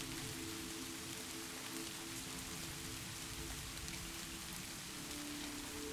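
Rain pours steadily around a cabin, a dense, constant wash of patter with no breaks, heard alone at a low, even level.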